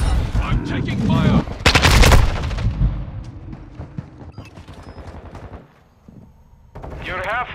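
Loud bursts of rapid automatic gunfire in a shooter video game, dense volleys that ease into scattered shots and then a final burst, with faint voices underneath.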